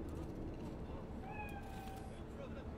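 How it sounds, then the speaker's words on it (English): A cat in the video game Cyberpunk 2077 gives a single faint, rising meow midway through, set against a steady low ambient hum of the game world. "Do you see it? That cat?"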